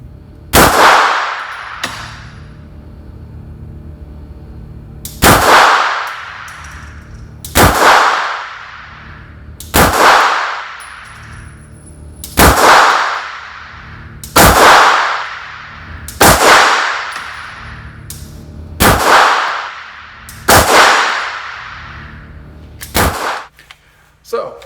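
Glock Gen 2 .40 caliber pistol fired at a range, about ten loud, sharp shots spaced roughly two seconds apart, each with a short echoing decay, close to the listener and with no talking.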